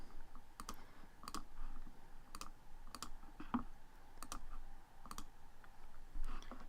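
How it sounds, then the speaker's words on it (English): Sharp mouse clicks on a computer, spaced irregularly in ones and quick pairs over a low steady room hum, with no talking. "I'm going to click on the top 3 results."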